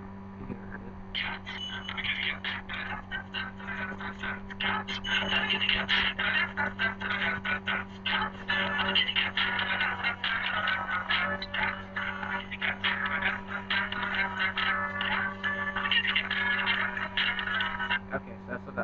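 A kitty cat novelty song plays as a trial ringtone, sounding thin and tinny from a small speaker with a steady electrical hum underneath, running continuously for the full length.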